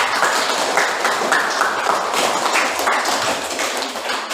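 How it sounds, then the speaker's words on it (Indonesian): A classroom group claps together in dense, steady applause that runs the whole time, close and fairly loud, with scattered sharper taps and no clear speech on top. "Tepuk tangan dulu untuk kita semua"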